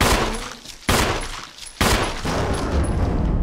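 Gunfire in Resident Evil (2002 remake): three heavy, booming shots spaced about a second apart, each dying away into a rumbling tail before the next, with no talking.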